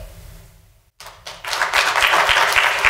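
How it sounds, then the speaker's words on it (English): Applause from an audience at a student government presidential debate, starting with a few claps after a short pause and swelling into steady, fairly loud clapping. "A nice round of applause for both of our candidates tonight."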